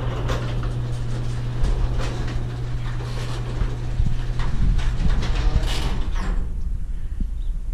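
A garage door opener runs with a steady, loud mechanical drone, a low hum and scattered creaks and clanks throughout, close by and with no talk.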